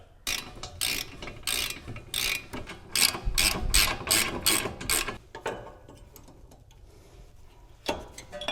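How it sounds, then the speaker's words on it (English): A ratchet wrench clicks in quick bursts while tightening brake bolts on a 2005–2009 S197 Mustang GT, with a run of sharp, regular ratcheting strokes up close, then a quieter pause and one final burst. "now I'm going to tighten up all these brake bolts"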